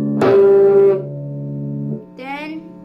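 Electric guitar plays a riff: a bright plucked power-chord note rings and decays, followed by a second sustained note about a second later and a short warbling tone, close and unaccompanied.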